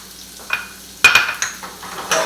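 Spinach being stirred into a veggie omelette in a frying pan, a soft sizzle with a sharp clatter of a utensil against the pan and a few lighter scraping knocks, no talking.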